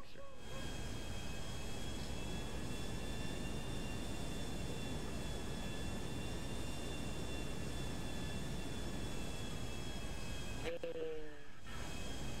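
A jet in a video game gives off a steady, unbroken engine roar and rushing hiss that holds at a constant level throughout, with a brief dip near the end and no clear talking.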